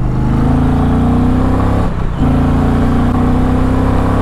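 An Indian motorcycle, a Pursuit or Roadmaster touring bike, accelerates hard to overtake a car on a road, its engine droning loud and steady, with a brief dip near the middle before the revving resumes.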